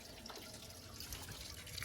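Toilet tank on a 2002 Crane Atlas refilling after a flush with hard, mineral-heavy water, a steady close hiss of running water with faint splashy trickles throughout.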